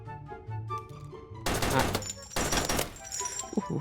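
Gunfire in a video game, with rapid bursts of automatic shots crackling loudly in two long volleys over game sounds, and a voice talking in the background.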